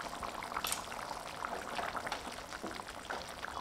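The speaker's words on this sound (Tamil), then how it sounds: "இப்போ முட்டை குழம்பு மீடியம் ஃப்ளேம்லேயே 5 நிமிஷம் நல்லா கொதிக்க வச்சுட்டேங்க" Egg curry simmers in a pot on a medium flame, giving a steady, faint bubbling with scattered small pops close by and no talking.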